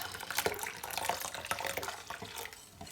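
Water poured from a cup into gram flour batter for khandvi, a steady splashing trickle that runs close by for a few seconds, fairly quiet, with no talk over it.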